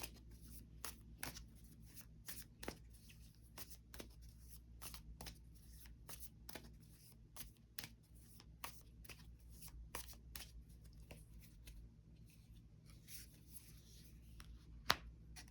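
Tarot cards are shuffled by hand in a quiet room, giving a long run of crisp, separate card flicks and slaps at a loose, uneven pace, faint and close with no voices.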